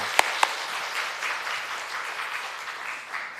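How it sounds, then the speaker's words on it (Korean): Church congregation applauding at a 33rd anniversary Sunday service, a steady wash of many hands clapping at moderate level for a few seconds, opened by two sharp louder claps. "오늘 33주년을 함께 하신 하나님 큰 영광 박수 돌리십시다."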